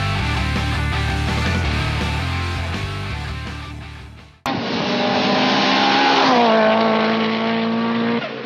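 A Mitsubishi Lancer Evolution CP9A/CT9A race car drifts all four wheels at Tsukuba circuit, a loud revving engine with shifting pitch, a sudden cut, then a sustained high-revving pass close by.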